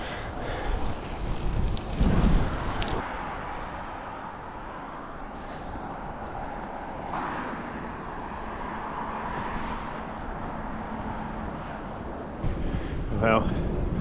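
Wind buffets the microphone while cycling on a touring bike along a road shoulder, a steady rushing roar with stronger gusts near the start and end, a voice speaking briefly over it.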